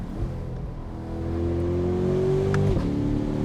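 A Corvette convertible accelerates hard, its engine note climbing steadily and loudly before a distinct gear shift drops the pitch near the end, heard close and alone.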